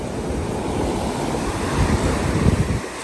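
Ocean waves at Saud Beach in Pagudpud after rain wash in as a steady, broad roar of surf mixed with wind buffeting the microphone, swelling slightly toward the end.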